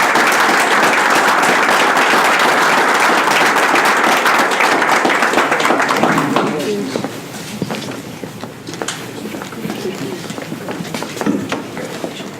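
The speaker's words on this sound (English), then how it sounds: "Please give her a round of applause." Audience applause fills a school district Board of Education meeting, dense and steady clapping for about six seconds before thinning into scattered claps, shuffling and faint talk in the room.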